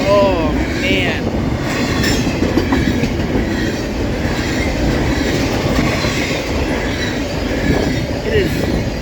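A CSX intermodal freight train on the New Castle Subdivision passes steadily close by on a cold, foggy day, with continuous loud rumbling, rolling wagons and recurring wheel squeals over the full length.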